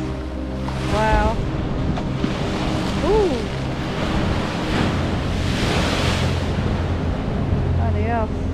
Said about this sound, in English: All these waves.